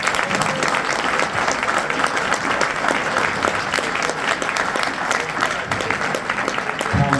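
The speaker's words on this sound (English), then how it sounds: "Can we please give a round of applause to our 2 moderators?" An audience at a New Jersey congressional candidate forum applauds the moderators, dense clapping from a crowd filling the room and steady from start to finish, with some voices mixed in.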